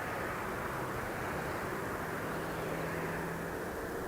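A Southwest airliner moving at Harry Reid International Airport in Las Vegas, a steady broadband jet engine roar heard from a distance, holding constant throughout with no talk.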